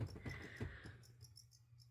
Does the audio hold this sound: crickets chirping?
yes